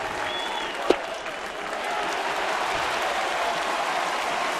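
Baseball stadium crowd in Toronto cheering and clapping for the Blue Jays during a game against Boston, a broad sustained roar with one sharp crack near the start, steady and loud throughout.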